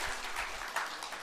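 An audience at a Buddhist monk's talk applauds; the clapping is soft and distant, forming a steady wash of claps with a few slightly stronger swells.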